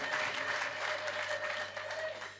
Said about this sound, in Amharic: ጭብጨባ ለጌታ